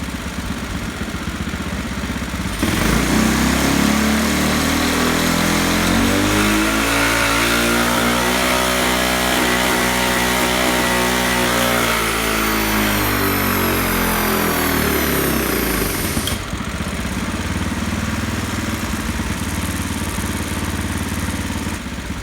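A modified 212cc Predator small engine runs on a dyno, revving up from idle to a loud, rising roar, holding a high steady pitch, then dropping back to a lower idle near the end; no talk.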